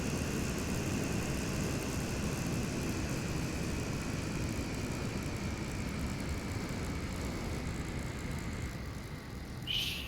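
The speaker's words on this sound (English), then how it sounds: "I was about to yell ship. I heard engines." Spaceship engines in a multiplayer salvage video game, a steady low rumbling drone holding at an even level throughout, with a faint higher whine running across and a brief bright burst near the end.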